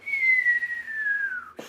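A voice imitates a kamikaze drone with a long, smooth whistle that slowly glides downward in pitch, ending with a short breathy puff.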